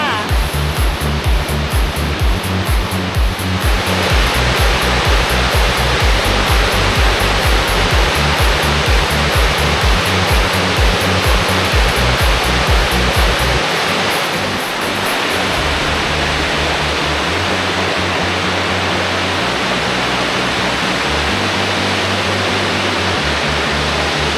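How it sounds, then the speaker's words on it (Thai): Muak Lek Waterfall in Saraburi, Thailand, rushing steadily with a loud, dense roar of falling water heard up close, unbroken for the whole stretch with no voices. "ลองมา เช็คอิน เช็คพอยต์กันที่น้ำตกมวกเหล็กกันนะคะ"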